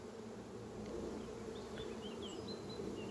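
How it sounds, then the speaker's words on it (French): Honeybees swarm around a beekeeper near flowering plum trees, a dense steady buzzing that fills the air close by, with individual bees droning past. "Et moi je suis entouré d'abeilles là."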